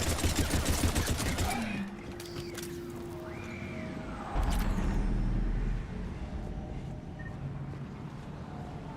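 Rapid gunfire bursts in the shooter video game Mass Effect 3, dense crackling volleys at first, then scattered shots amid electronic whooshes and impact effects, moderately loud with someone talking over the action.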